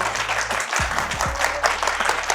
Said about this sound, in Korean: 함께해 주신 작가님께 큰 박수 한번 부탁드릴게요